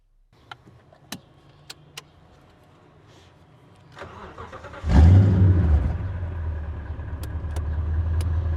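A homemade 4x4 rally jeep with a nearly straight-pipe dual exhaust starts after a few faint clicks, then settles into a loud, heavy idle that builds steadily as the engine revs, close by.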